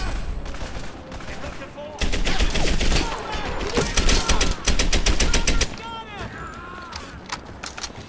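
Rapid bursts of automatic gunfire from a weapon in the World War II shooter Medal of Honor: Airborne, loud and close, with dense rattling volleys and short pauses while someone talks over the shooting.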